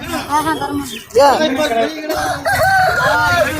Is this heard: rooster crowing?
yes